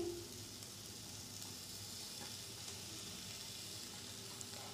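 Chicken frying in a pan over a medium flame, a faint, steady sizzle with a few soft stirring sounds.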